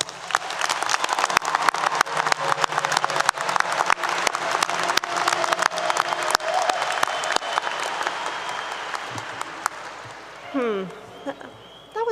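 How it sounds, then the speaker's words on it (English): A 2022 graduating class applauds at a commencement ceremony, dense crowd clapping near and loud for about ten seconds before thinning out, followed by a brief voice over the hall's sound system. "Graduating class of 2022, give yourselves a well-deserved round of applause."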